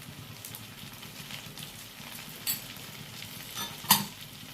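Green chillies and capsicum frying in a pan, with a soft, continuous crackling sizzle and a few faint clinks of a utensil as they are stirred; quiet and without speech.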